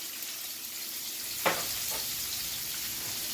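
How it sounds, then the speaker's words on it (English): Salmon fillets sear in a hot pan, giving a steady hiss of sizzling fat and oil, close and moderate, with a brief sharper spatter pop in the middle. "So we're gonna pan sear the salmon 2-3 minutes on each side."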